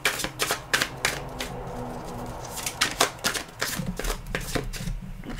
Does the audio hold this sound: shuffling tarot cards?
yes